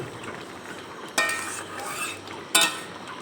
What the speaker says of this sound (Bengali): গরম মশলার গুঁড়ো দিয়ে একটু নেড়েচেড়ে নিলাম